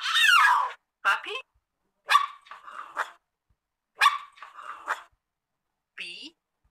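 A puppy barks in short yappy bursts, about five or six separate barks spaced across a few seconds, close and clear with no other sounds around them.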